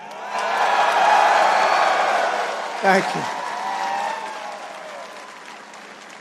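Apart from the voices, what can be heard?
crowd cheering and applause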